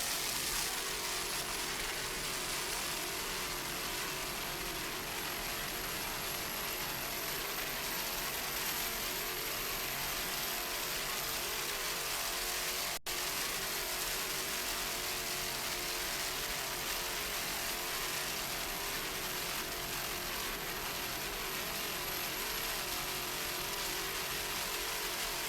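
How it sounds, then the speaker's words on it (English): Twin Blue Thunder engines power a 30-foot Formula racing boat off Key West, a steady, loud, unbroken roar mixed with wind and water rush that holds for the whole stretch, with no voices over it. "Those Blue Thunder engines doing their job."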